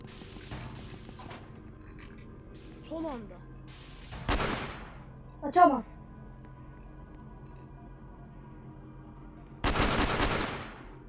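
Bursts of AK rifle gunfire in the video game SCP: Facility Breach ring out in a few short volleys, including one loud burst at the end, while people talk over the game audio.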